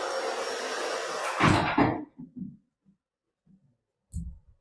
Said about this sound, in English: maybe I'll close that door